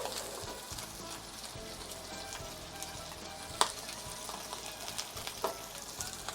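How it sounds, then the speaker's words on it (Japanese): Shrimp heads and shells fry over fairly high heat in olive oil in a pan, a steady soft sizzle with occasional pops and faint stirring scrapes, quiet and close with no talking. "エビの頭と殻を入れて、割と強めの火加減で香ばしく焼いてください。"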